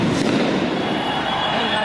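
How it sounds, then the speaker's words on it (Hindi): Firecrackers set off in a crowded street during a cricket World Cup victory celebration at Rajkamal Chowk, Amravati, India, a dense, loud, continuous crackle heard with crowd noise and voices throughout. "पटाखे लगा दिए उन्होंने, यहाँ"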